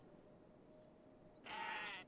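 A goat in the Kenshi video game gives one short, loud bleat near the end, after a quiet stretch of faint ambient game sound with no voices.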